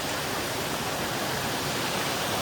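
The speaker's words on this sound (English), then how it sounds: "Look at this waterfall." Waterfall at Corrieshalloch Gorge in the Scottish Highlands, a steady broadband roar of falling water that holds evenly and loud throughout, with no talking over it.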